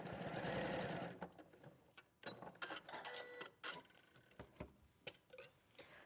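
A sewing machine stitches along a seam, a steady fast whir at first, then bursts of rapid mechanical ticking and clicking, close and clear with no talking.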